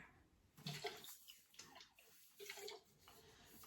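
Water pours from a push-button water dispenser into a travel mug in short, faint gushes, stopping and starting again, with no talk.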